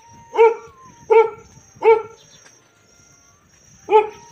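A dog barks four times in sharp, loud single woofs, evenly spaced and then a pause before the last, with faint background murmur in a village setting.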